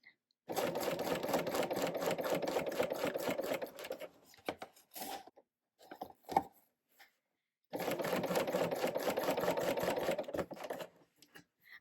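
A serger sewing machine runs fast in a steady buzzing stitch along a zipper, pauses briefly with a few soft clicks and handling sounds, then stitches again before stopping.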